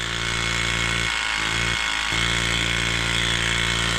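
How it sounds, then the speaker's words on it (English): A loud vacuum pump whirs steadily on an engine, a dense, buzzing mechanical drone that holds constant throughout with two brief dips, with no voices. "Oh, what's going on with our vacuum pump?"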